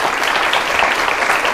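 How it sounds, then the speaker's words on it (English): A studio audience at a televised political debate breaks into a loud, dense round of applause that stays steady and continuous throughout the short stretch. "a round of applause for them"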